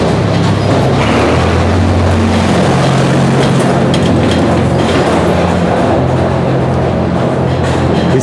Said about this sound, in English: the little tractors that we've spoken about many times that move goods, building materials, and garbage around